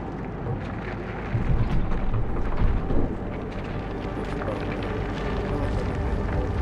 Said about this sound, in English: Keep an eye on that storm